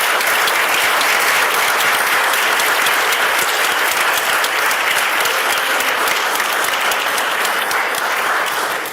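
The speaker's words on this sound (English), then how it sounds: "please give them a round of applause" Loud, dense applause fills a city hall meeting room in Passaic, many hands clapping continuously and evenly for the full stretch, close and sustained without any speech over it.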